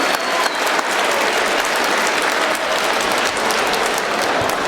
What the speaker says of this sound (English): let's give both boxers a really big round of applause